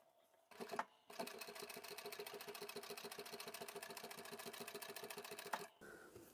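A sewing machine runs steadily for several seconds, top stitching a small coin pouch sewn from scrap fabric, with a fast, even needle rhythm after a brief starting burst, close and fairly loud with no talk.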